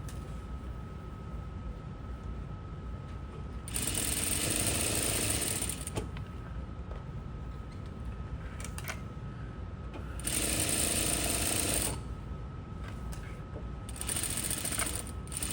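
Sewing machine running a seam on a flared dress, three separate bursts of fast buzzing stitching, each a couple of seconds long, with a steady low background hum between them, close by.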